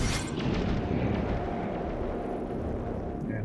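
A breach explosion in the video game XCOM Chimera Squad erupts as one loud, sustained blast, its sharp burst opening into a long rumbling roar that fills the whole moment with no voices over it.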